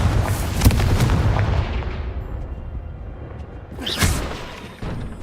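A Confringo fire spell blast in Hogwarts Legacy: a loud booming burst that rolls off into a fading rumble, then a second sharp blast hits about four seconds in, with no voices over it.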